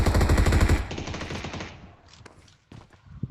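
Automatic gunfire in the battle royale game PUBG on the Erangel map: a loud sustained burst of rapid shots for about a second, fading into echoing tails, followed by a few scattered single shots.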